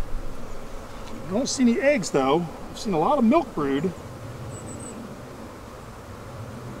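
Honeybees hum steadily around an opened backyard hive, a low continuous drone under a voice talking about the brood.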